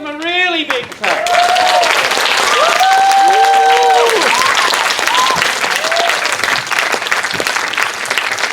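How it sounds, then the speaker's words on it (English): A school theatre audience breaks into loud, sustained applause, many hands clapping together, while voices call out and a few sung or cheering tones rise over it. "Let's give them a really big clap."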